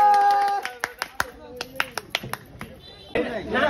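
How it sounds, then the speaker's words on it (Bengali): A small group claps for the winner of a spin game, a burst of sharp, uneven hand claps close by, with a raised voice and chatter around it. "সাদাত ভাইয়ের জন্য সবাই হাততালি জোরে"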